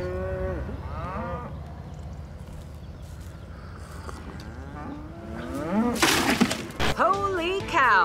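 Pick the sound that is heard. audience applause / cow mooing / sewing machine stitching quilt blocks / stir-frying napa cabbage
cow mooing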